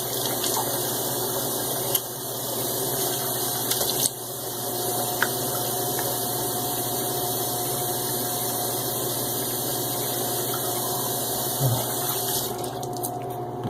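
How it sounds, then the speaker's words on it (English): Steady running water from a tap pours continuously while a head, throat and face are wetted before a wet shave, an even mid-level flow with a few small splashes and knocks. "So let me wet the head and throat and face."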